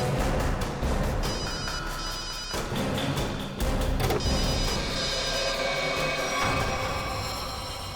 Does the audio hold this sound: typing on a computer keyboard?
no